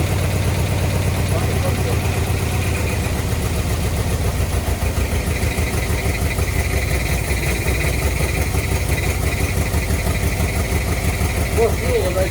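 The engine of a 1962 Ford Galaxie idles steadily with a low, even rumble and faint vibration, loud and close throughout, while a voice talks intermittently over it.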